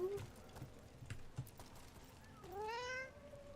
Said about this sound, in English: Oh, there's the cat.